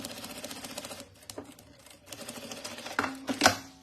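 Sewing machine running a second line of stitching close beside a zipper on a crossbody bag, short bursts of whirring stitches with pauses and a clack near the end, close and fairly quiet.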